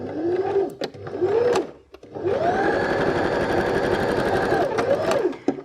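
Sewing machine running a zigzag stitch along the seam of small doll's shorts, a steady close mechanical whir in two bursts, a short one then a long continuous run, with brief pauses between.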